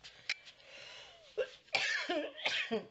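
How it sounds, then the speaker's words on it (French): Someone coughs several times close by, a couple of short bursts followed by a rougher, harsher fit, with quiet breathing between. "Je filme pas, je tousse pas, je filme, je tousse"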